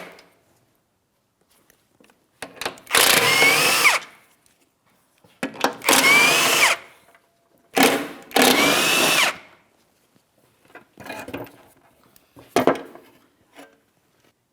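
A power tool spins out 15mm mounting bolts from an underbody shield on a 2007-2014 GMC Sierra 2500 HD, sounding as loud, close whirring bursts of one to two seconds, then shorter, weaker ones separated by quiet pauses.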